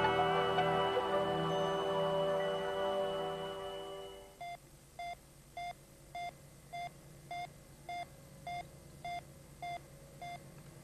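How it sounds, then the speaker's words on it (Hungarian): A sustained electronic tone gives way to a regular series of short, even beeps like an alarm clock, repeating at a steady pace on a sci-fi moonbase set. "pittyeg akár az ébresztő óra, mint mindig"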